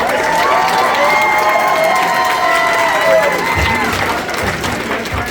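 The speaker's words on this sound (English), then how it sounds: "Round of applause for our panelists." Loud, sustained applause from a convention panel audience, dense clapping with some cheers and whoops, gradually thinning toward the end.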